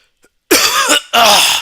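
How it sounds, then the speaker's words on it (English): Two harsh coughs, close and loud, after a moment of silence. "I had to cough."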